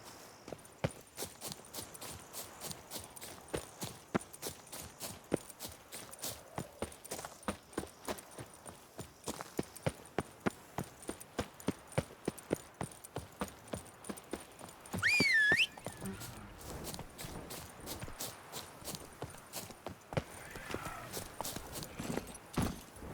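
Roach the horse's hooves pounding in The Witcher 3: a long, fast, steady clip-clop gallop that continues throughout, close and clear, with a brief whistle partway through.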